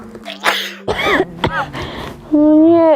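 Several sharp, harsh coughs and throat-clearing bursts from a child sick at home, loud and close, followed by a sustained voiced tone.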